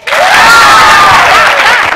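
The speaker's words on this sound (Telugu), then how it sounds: "క్లాప్స్ కొట్టండి." A live studio audience breaks into loud applause mixed with cheering and shouted voices, a dense, steady wash of crowd noise that swells in quickly and holds for about two seconds.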